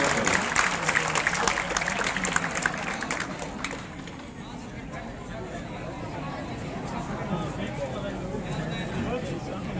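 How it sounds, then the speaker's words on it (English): Audience applauding B.Ed graduates at a university convocation ceremony, a dense burst of clapping and crowd noise in the first few seconds that thins into a softer murmuring hall. "Please clap for them."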